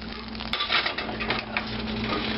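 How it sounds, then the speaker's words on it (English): Meat being pushed aside in a frying pan while cooking Japanese-style fried rice, metal utensils scraping and clinking against the pan over a steady sizzle, close up with no talking. "I'm going to just put the meat off to the side."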